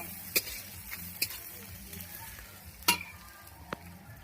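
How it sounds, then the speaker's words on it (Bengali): Onions frying in a pan on a rooftop cooking setup, with a soft steady sizzle under occasional sharp clinks and scrapes of stirring. "একদম পেঁয়াজটা লাল লাল করে ভেজে নিই"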